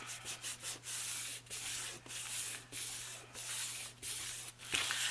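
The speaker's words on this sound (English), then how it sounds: "You can see how I can rub that ink off with my fingers" Fingers rub wet ink off paper on a collage journal cover, a soft dry scuffing made in repeated short strokes with brief pauses between them, close and fairly quiet with no talking.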